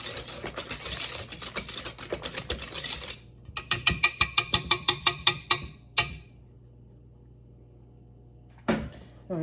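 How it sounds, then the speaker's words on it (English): A spoon stirs vanilla into batter in a mixing bowl with quick, rhythmic clicking and scraping strokes that come in bursts. Pauses of near silence fall between the bursts. "Go ahead and stir that in."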